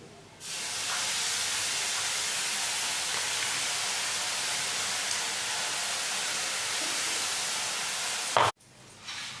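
Spices are tipped into a frying pan of fried onions and break into a loud, steady sizzle that holds for several seconds, then stops abruptly after a brief clatter.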